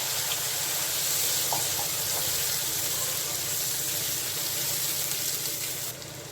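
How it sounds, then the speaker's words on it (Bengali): Whole cumin seeds sizzle as a tempering in hot oil, a steady close hiss of frying with faint water-like crackle throughout, no talk. "এখন এখানে আমি জিরা ফোড়ন দিয়ে দিচ্ছি গোটা জিরে"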